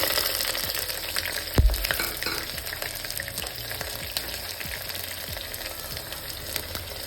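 Mustard seeds and onion fry in hot oil with peanuts, chana dal and urad dal for veg pulao, giving a steady close sizzle with crackles and one sharp pop near the start; no one speaks.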